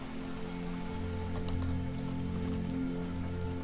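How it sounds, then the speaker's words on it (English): Steady patter of rain falling in the SimCity city-building game, a soft continuous wash of drops holding even loudness throughout with no voices over it. "Look, it's raining out."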